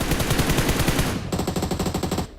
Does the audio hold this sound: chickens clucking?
no